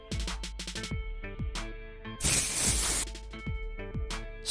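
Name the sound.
hairspray being sprayed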